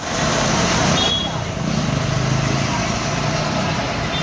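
A large truck carrying a plastic-covered Ganpati idol toward Surat, a loud steady engine rumble with road noise as it moves off, a voice talking over it.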